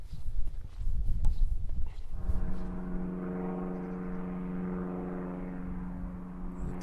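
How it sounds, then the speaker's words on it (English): A steady droning aircraft engine tone from a plane over the Cheviot hills near Millfield Aerodrome, out on a cool overcast November day, sets in after a couple of seconds of outdoor walking footsteps and holds evenly to the end. "Glider away out for a wee fly. It'll have come from Millfield Aerodrome."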